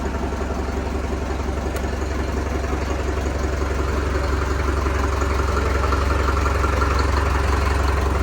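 A 2018 Sonalika tractor's diesel engine idles steadily, a low rumbling throb that holds without change throughout, close and fairly loud.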